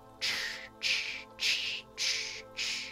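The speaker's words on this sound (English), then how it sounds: "That's the sound of you stepping through the leaves." Five evenly spaced crunching steps through dry leaves, each a short bright burst of rustle, close and fairly loud, with nothing else heard.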